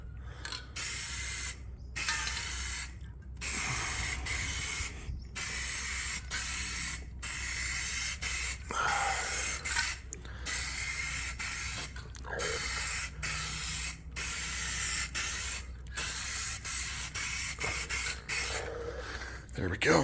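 Spray can applying Hyperdip rubber coating to a car wheel, in repeated bursts of hissing spray separated by short pauses, with a faint rattle as the can runs low.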